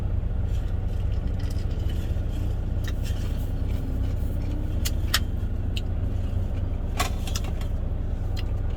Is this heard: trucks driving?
yes